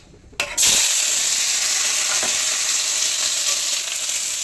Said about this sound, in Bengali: আলু ভাজা করবো আর রুটি করব বসিয়ে দিয়েছি আলু ভাজা